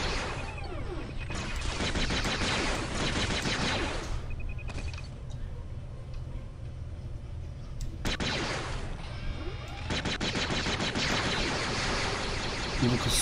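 Turret gunfire in the video game Star Wars Jedi Knight II: Jedi Outcast, dense rapid blasts filling long stretches with a short lull between, loud and continuous, with a voice speaking over parts of it.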